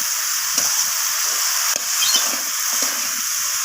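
Bottle gourd pieces being stir-fried in a pan with other ingredients, a steady loud sizzle with spatula scrapes and stirring knocks at intervals, no talking.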